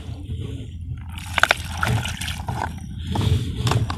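Water poured generously onto a vermicompost bed of cow dung, a steady trickling and splashing flow running the whole time with a few sharper gurgles, close and moderately loud.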